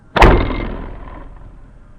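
A single compound bow shot from a Hoyt bow with its 360 dampener removed gives a sharp thwack close by, its ringing resonance slowly dying away.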